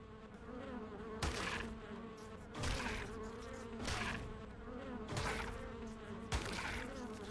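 Bugs buzzing around a person at a desk indoors, a faint droning hum broken by several sharp loud swats or knocks at roughly one-second intervals, no speech.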